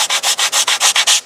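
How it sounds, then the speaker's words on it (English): A hand sander works over an RC airliner model, a Emirates 777-9X build, in nine quick, even back-and-forth strokes, close and loud with no talking. "that's when you bring in"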